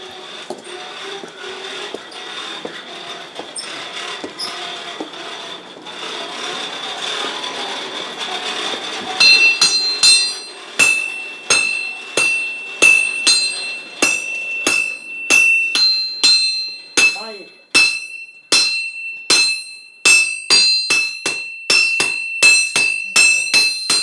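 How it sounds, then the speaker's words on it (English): Metal hammer strikes ring out on iron at a blacksmith's station in a Sicilian living nativity scene, a steady run of bright clanging blows following a stretch of murmuring crowd ambience, with a clinking tool rattle among them. "We arrive to the man who work the iron, blacksmith. The rattle of tools."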